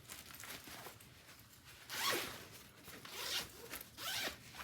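A compression packing cube is unzipped all the way in a quiet room: several close, soft, ragged zipper pulls in quick succession, with no talking.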